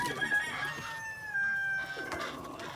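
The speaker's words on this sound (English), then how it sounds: "There's the other cream Brabanter hen." Backyard hens, including a cream Brabanter, clucking and calling close by, a few drawn-out tonal cackles over a quiet yard.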